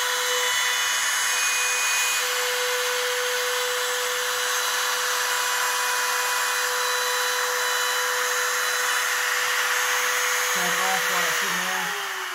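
A router cuts a wooden bespoke art frame, making a loud, constant high-pitched whine with a steady tonal hum that runs unbroken, with a slight wavering near the end.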